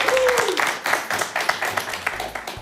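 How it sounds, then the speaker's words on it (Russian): A New Year's show audience in a hall claps for a guest walking back to their seat, brisk uneven applause with some louder individual claps and a brief tonal sound near the start. "Провожаем вас под аплодисменты в зал"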